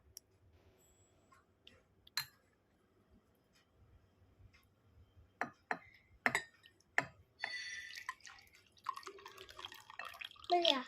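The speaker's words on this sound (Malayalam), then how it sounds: "ഇതിലോട്ട് പാൽ ഒഴിച്ചു കൊടുക്കാം" Milk poured into a glass for dalgona coffee, a soft splashing pour that swells in the second half after a few scattered drips and clicks, close by and otherwise quiet.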